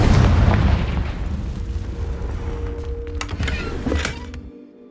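Fiery spell blasts in Hogwarts Legacy, Incendio and Confringo, open with a loud booming burst that rolls into crackling, rumbling debris, followed by a few sharper pops and impacts as the noise gradually fades.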